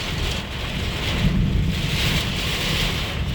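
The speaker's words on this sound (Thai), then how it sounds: "ตรงนี้พายุเข้าหนักนะ" Heavy rain and a thunderstorm with strong winds, heard from a car driving through the storm, a dense continuous roar of rain with deep low rumbling, loud and steady throughout, with no talking.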